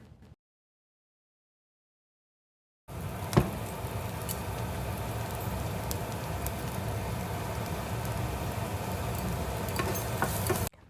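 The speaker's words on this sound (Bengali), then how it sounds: "মশলা তো ফ্রাই হয়ে গেছে সবগুলোই" Spice powders for Maggi noodles fry in a pan on a boat, giving a soft, steady sizzle that begins after a short silence and continues evenly.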